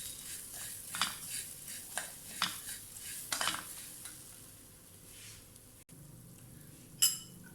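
Roasted vermicelli and sugar are stirred in a pan with a utensil, giving a run of soft scraping strokes and light clinks in a quiet kitchen, with one sharper clank near the end.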